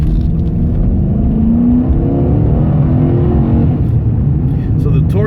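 A 2006 Dodge Charger RT with a 5.7L HEMI V8 pulls hard, its engine note rising steadily in pitch as it accelerates, loud and close from inside the car, with a voice briefly audible.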